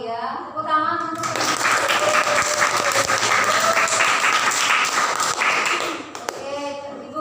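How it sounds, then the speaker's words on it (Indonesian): Students in a classroom break into lively applause after brief talk, the clapping dense and steady for several seconds before fading, with a teacher's voice heard at the start and end. "Tepuk tangan untuk"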